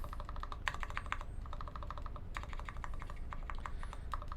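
Quiet, close typing on a mechanical keyboard, a TR60 build, with steady runs of crisp clacks and a few heavier strikes that hint at a rattling spacebar stabilizer wire.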